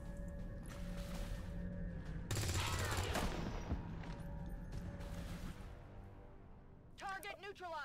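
Gunfire in XCOM 2, a loud burst of shots around the middle of the clip over steady game sounds, with people talking before and after.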